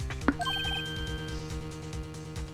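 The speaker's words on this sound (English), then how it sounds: "I heard a phone ring just now." A phone ringtone in the Ace Attorney video game: a short run of bright electronic beeping notes after a sharp click, over a steady hum of game background music, with no talking.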